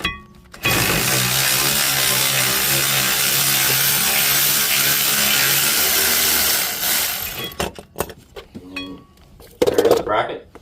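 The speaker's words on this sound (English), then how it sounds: "Now we're going to go ahead and get our caliper bracket bolts off." A power tool loosens 14 mm brake caliper bracket bolts during rear brake and rotor work, a loud steady whir running for about seven seconds, then stopping, followed by scattered clinks and brief tool bursts.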